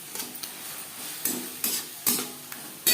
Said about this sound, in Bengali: মশলার সব উপকরণ মাছের তেলের সাথে বেশ ভালো করে মিক্সড করে দেবো